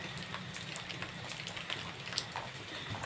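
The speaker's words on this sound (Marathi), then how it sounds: "हलका हलका पाऊस पडतोय" Light rain falling steadily outdoors, a soft continuous patter with occasional distinct drips, fairly quiet and uninterrupted by talk.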